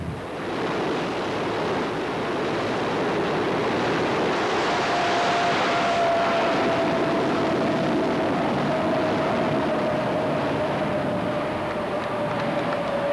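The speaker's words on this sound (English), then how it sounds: "Up to this point, all jet-powered trucks have been powered by one engine." A jet-powered drag racing truck roars in a loud, continuous blast of broadband noise, with a thin whining tone that slowly falls in pitch through the middle of the run.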